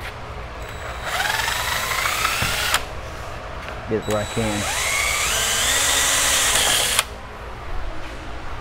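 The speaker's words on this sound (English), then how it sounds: "Alright, well, I'm going to grab a drill." A power drill bores front and back pilot holes into a MotoBilt roof rack for mounting an Overland Vehicle Systems Nomadic 270 LT awning, with two sustained rising whines, brief bursts in between, and someone talking over it nearby.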